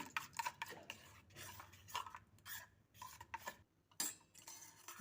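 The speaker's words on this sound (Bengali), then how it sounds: "এই দুধের মধ্যে দিয়ে দেব একটা ডিমের কুসুম ডিমের কুসুম দেওয়ার পর আবারও ভালো করে মিশিয়ে নেব" Egg yolk being stirred into milk in a bowl for custard cream buns, a series of close, uneven scraping and clinking strokes with short pauses between them.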